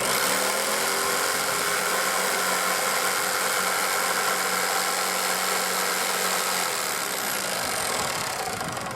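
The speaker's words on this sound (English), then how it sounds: "If you are using a jigsaw, it's always good to wear a pair of goggles" A jigsaw cuts through wood for a flower box, giving a steady, loud, buzzing motor whine that runs continuously and close by, with no talking.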